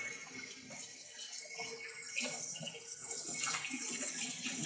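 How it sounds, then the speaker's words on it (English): Hands are washed under a running tap, with a steady, close rush of water splashing continuously in a kitchen during brisket preparation. "Wash my hands."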